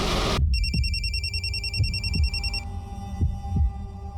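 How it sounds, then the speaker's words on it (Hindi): A phone rings with a repeating electronic trill for about two seconds, over a low steady hum and a few dull thumps. "ये फोन किसका बज रहा है?"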